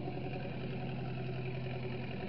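A 1920s Farmall F20 tractor fitted with a sickle bar idles nearby at a fair, giving a steady, low, even engine rumble with no voices.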